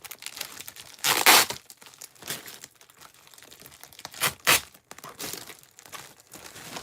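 A taped plastic bag is torn away from bubble wrap packaging around bottles: several sharp ripping and crinkling bursts with quieter rustling in between, heard close up and alone.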